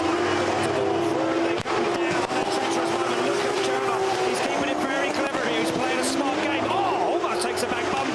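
Drift car at a Drift Masters event, Benediktas Cirba's run, the engine screaming up and down through the gears into a chicane, loud and sustained with wavering pitch, under an excited commentator's voice.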